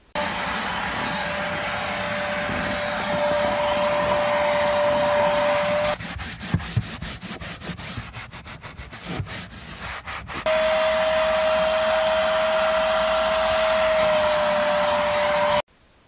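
Shop vacuum running inside a Nissan 350z interior, a steady loud whine that cuts to rapid scrubbing or suction clatter midway, then resumes at full drone before shutting off.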